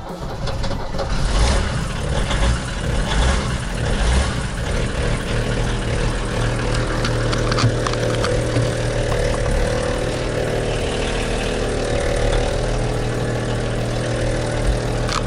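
VW LT low-budget camper van's engine runs in a loud, steady, rough drone with a heavy low rumble, close and continuous, no talk.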